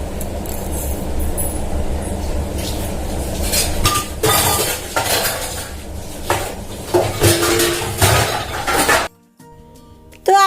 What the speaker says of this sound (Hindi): बर्तन जो पड़े हैं इनको साफ कर लेती हूँ